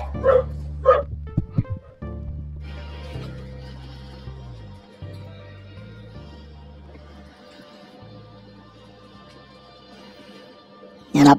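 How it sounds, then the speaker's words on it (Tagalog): A dog barks and yips in short bursts at a beach setting in Anawangin, Zambales, with a few sharp barks early on and another at the end over a low background hum; a person's voice is briefly mixed in. "Ang ingay ng aso"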